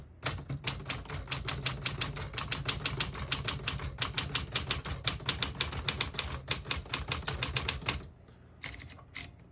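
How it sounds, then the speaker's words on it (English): Rapid, steady keystrokes clack on a 1959 Smith-Corona Galaxie portable typewriter for several seconds, then stop, followed by a couple of quieter mechanical clicks. "I'll type a sentence on the next line."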